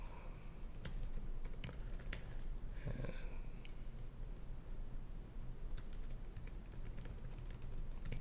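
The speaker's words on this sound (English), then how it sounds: "when I stop and you hear me typing, I'm taking up the notes" Steady keyboard typing while notes are taken during a client interview, a continuous run of quick clicky keystrokes with short pauses, close and fairly loud.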